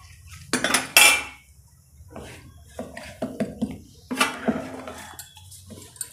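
A sesame jaggery poli being flipped on a pan, heard as a series of metal spatula clinks and scrapes against the cookware, close and distinct with no talk.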